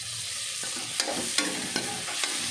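Chopped tomatoes go into a hot pan of poha vegetables and sizzle steadily, with several sharp scraping stirs of a spoon against the pan spaced through a short burst.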